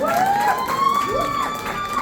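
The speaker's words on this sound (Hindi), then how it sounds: "ताली होनी चाहिए" An audience cheers and applauds at a 10th anniversary celebration, a lively crowd with whoops and shouts over steady clapping, while a high sustained tone runs underneath throughout.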